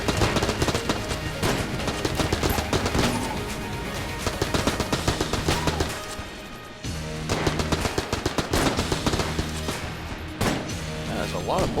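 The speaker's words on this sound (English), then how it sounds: "That's a lot of bullets." Rapid, dense bursts of gunfire and bullet impacts in the video game Enter the Gungeon, nearly continuous with sharp repeated shots, a short lull around the middle, and a voice speaking over the barrage.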